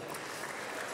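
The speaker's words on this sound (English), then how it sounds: "Give them a round of applause." Audience applause at the 56th Annual Golden Fellowship Dinner of the Chicago Urban League, a brief, steady and dense wash of many hands clapping.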